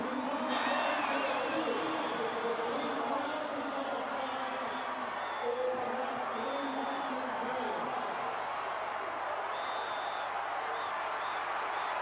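Rugby league crowd of Tongan and Samoan supporters at a World Cup match, a broad continuous roar of cheering and applause filling the stadium, heard faintly at a distance with speech mixed in.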